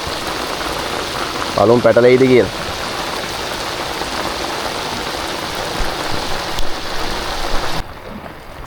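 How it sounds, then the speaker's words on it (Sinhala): Rain pours steadily on a fishing boat at sea in stormy weather, a dense, even hiss of drops across the whole stretch, with someone speaking briefly over it. "බෝට් එකේ ඉඳිද්දි අහුවෙලා තියෙනවාද මේ වගේ වැස්සකට?"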